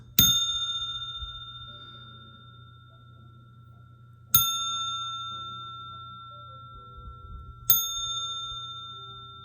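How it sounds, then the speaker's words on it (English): A small singing bowl bell is struck three times, each strike a clear, bright ring that hangs and slowly fades before the next. It sounds close and alone over a faint low background hum. "I keep forgetting to ring that little bell."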